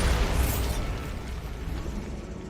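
Bombarda blasting spell going off in Hogwarts Legacy, a loud explosive burst that rumbles heavily at first and then settles into a sustained, crackling roar.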